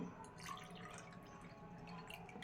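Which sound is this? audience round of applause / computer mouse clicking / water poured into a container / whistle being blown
water poured into a container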